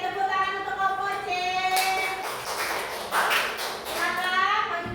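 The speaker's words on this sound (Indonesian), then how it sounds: "tepuk tangan untuk kelompok C" A classroom group gives a burst of applause for Group C at a school teaching assessment, clapping rising mid-clip over background chatter and children's voices.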